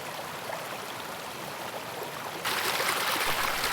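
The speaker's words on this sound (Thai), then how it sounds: "ฟังเสียงน้ำไหล" Water flows and burbles steadily close by, a continuous rushing stream that grows louder and brighter partway through.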